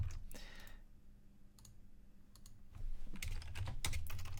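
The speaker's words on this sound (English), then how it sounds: "Going to have to type it manually." Computer keyboard typing close by, in bursts of rapid clicking keystrokes separated by short pauses, with no talking.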